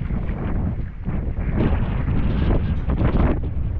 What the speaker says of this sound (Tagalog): pag malakas yung hangin